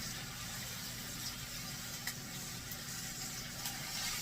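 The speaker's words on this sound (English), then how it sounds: "We're going to turn this chicken for the first time. And just kind of get it browned on each side." Chicken browning in a hot pan on the stovetop, a steady, fairly quiet sizzle and crackle with a few faint clinks, no talking.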